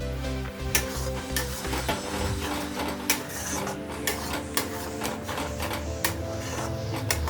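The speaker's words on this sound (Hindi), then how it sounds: "और साथ ही डालेंगे ये जो हमने परवल के पल्प रखे थे ना प्यूरी बनाकर, वही ये डाल देंगे" Parwal pulp puree going into frying masala in a pan gives a steady close sizzle and crackle with repeated scraping stirs, no voices.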